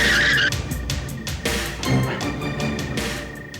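A car brakes hard and its tires skid with a loud, sustained screech that holds for a few seconds as the vehicle slides to a stop, close and prominent.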